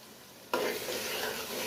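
Liver (kaleji) with spices hitting a hot pan, a sudden loud sizzle that starts abruptly and then holds as a steady close-up frying hiss.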